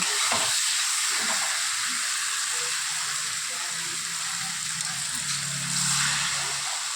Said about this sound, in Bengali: বাটা মশলা ভালো করে এবার কষিয়ে নেব